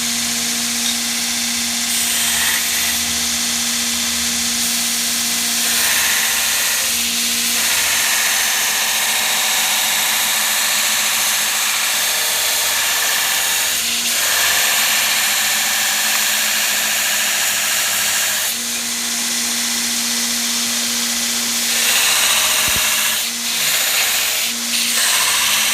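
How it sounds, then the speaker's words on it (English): A belt grinder running Blaze abrasive belts shapes the finger grooves of a knife, giving a steady, loud motor whir and broadband grinding hiss with a constant hum, briefly easing and swelling as the blade is worked, with no talk. "I love blaze belts, but this grinder is more than enough to get the job done quick."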